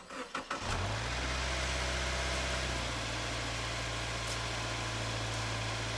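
A few quick cranking bursts, then a Subaru Forester SJ engine catches and settles into a steady, low idle hum that continues evenly to the end.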